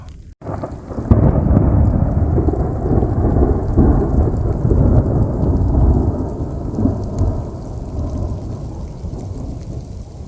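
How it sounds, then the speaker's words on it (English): Thunder from lightning strikes in a dry afternoon storm over parched open country, a loud sustained rumble rolling on for several seconds and slowly fading, with a steady rain-like hiss beneath it. "the lightning's hitting"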